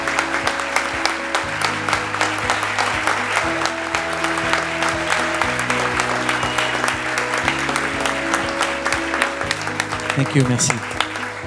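Sustained audience applause at an awards evening of a fantasy film festival, honoring the jury prize winner; dense clapping runs throughout with a brief spoken thanks over it and a steady musical tone underneath.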